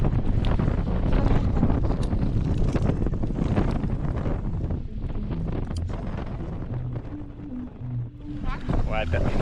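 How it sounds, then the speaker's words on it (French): Strong wind gusts batter the microphone at a kite session on the Îles de la Madeleine, a loud, rough rumble throughout, with a voice speaking briefly near the end. "les vents changent de direction et des grosses rafales"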